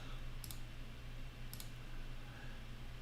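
Computer mouse clicking while selecting boundary edges in Fusion 360 CAD software, two quick double clicks a second apart over a steady low hum.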